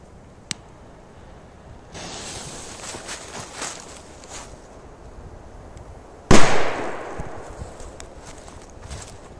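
A small 'Grom' firecracker going off outdoors: a faint click early on, quiet shuffling, then a single sharp, loud bang whose echo fades out over the next second.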